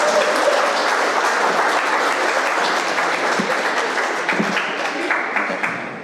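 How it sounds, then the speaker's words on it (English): A hall audience at a 12th grade graduation ceremony gives sustained, dense applause that stays loud and close before tapering slightly at the end. "please, let's get a beautiful round of applause"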